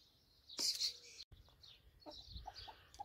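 Hens and a rooster cluck in a backyard flock kept beside vegetable gardens, with one loud, close burst of calls followed by quieter, scattered clucks.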